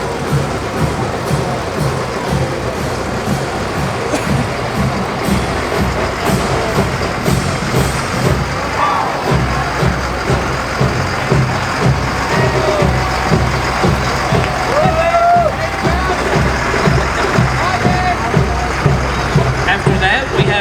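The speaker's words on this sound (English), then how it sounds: "Behind that is his American tow truck." An American tow truck rolls past in an apple festival parade, a loud diesel rumble with hissing air brakes close by, under steady announcer talk and crowd noise.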